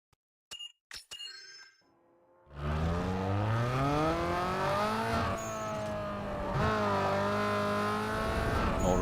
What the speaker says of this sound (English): restarting the game didn't fix the weird engine noise distortion while shifting